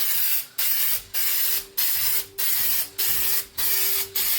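Aerosol can of frosted glass spray applied in a light coat, heard as about eight short, loud hissing bursts separated by brief pauses, close up with no talking.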